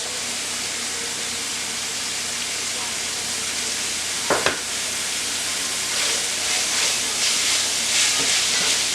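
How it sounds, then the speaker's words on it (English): Onions sizzling and hissing steadily in a hot pan while being mixed for keto stuffed mushrooms, with a brief scrape of stirring midway and the frying growing slightly louder toward the end; no talking. "we're going to go ahead and add our onions. Give that a nice mix."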